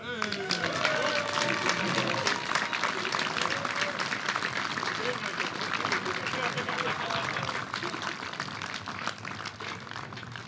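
Big applause from a crowd of spectators at a shooting World Cup event in Turku, dense continuous clapping held at steady loudness for about ten seconds, with faint voices mixed in.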